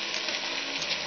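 Okra (bhindi) frying in a pan for restaurant-style masala bhindi, a steady close-up hiss and crackle of hot oil without pause.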